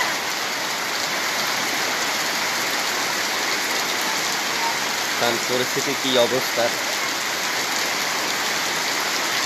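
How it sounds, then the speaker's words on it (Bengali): Heavy rain pours down in a dense, steady roar, with someone speaking briefly partway through. "দেখেন বৃষ্টি যে হইতেছে"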